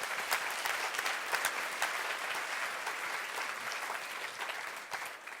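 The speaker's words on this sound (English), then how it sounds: "Please give a warm round of applause." A crowd applauds at the end of a talk session with Joe Wicks, a full, even wash of many clapping hands lasting throughout and tapering slightly at the end.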